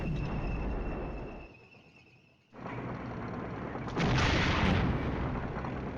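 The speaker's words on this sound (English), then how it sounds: "Let's see what will happen with our artillery." Artillery fire in the wargame Flashpoint Campaigns: Southern Storm, a continuous rumbling barrage of booms that dips briefly, then swells back louder with a sharp, bright burst near the end.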